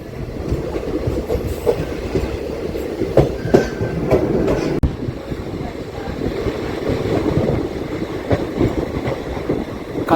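A DEMU train runs steadily through Gowdavalli station without stopping, its rolling rumble and wheel clatter loud and continuous from onboard, with a brief sharp jolt midway.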